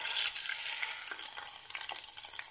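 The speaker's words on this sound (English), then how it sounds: "So while the yam and the garden egg is on the fire, I have to start frying the fish." Steady bright sizzling and crackling of fish frying in hot oil, close up, with no voices.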